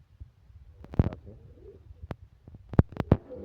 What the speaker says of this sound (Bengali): এই যে একটা নীলে কবুতর দেখাই